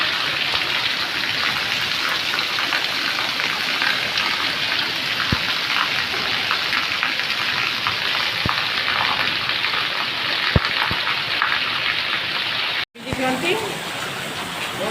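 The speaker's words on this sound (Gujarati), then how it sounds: "અહીંયા કેટલી સ્પીડમાં વરસાદ પડે જોવા ખાલી બાજુ" Heavy rain pours down in a dense, continuous hiss with scattered sharp drips and taps, cut briefly by a sudden break before resuming.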